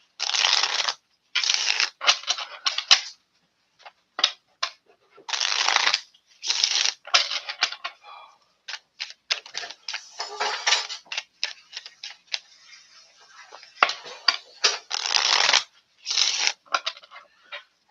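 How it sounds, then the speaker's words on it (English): A deck of tarot cards shuffled by hand in repeated bursts of riffling and rustling, loud and close, with short pauses between the runs and no talking. "I was shuffling these cards"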